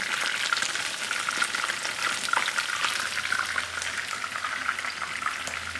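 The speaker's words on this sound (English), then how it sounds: "while the fish was frying" Baby hake frying in oil sizzles and crackles steadily with dense popping, close up and continuous, with no voices.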